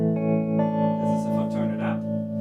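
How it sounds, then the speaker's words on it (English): Slide guitar in open D through a Milkman F-stop reverb and tremolo pedal turned up, sustained chords shimmering with a slow pulsing tremolo and wide washy reverb tail. "So I use a Milkman f-stop. It's like a reverb and tremolo pedal."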